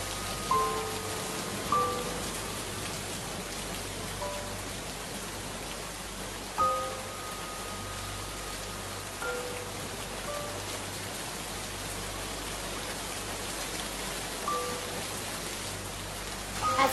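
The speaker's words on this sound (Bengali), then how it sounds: "আর ঝমঝম করে বৃষ্টি পড়ছে।" Heavy midday rain pours down steadily as a dense, even hiss of drops striking surfaces, with occasional louder splashes and faint distant tones, and no voices.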